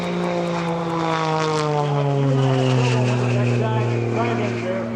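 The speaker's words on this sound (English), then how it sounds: "Climbing airplane." Propeller aerobatic plane climbing at an air show, its engine droning loud and continuous with a steady, slowly shifting pitch that fills the whole stretch.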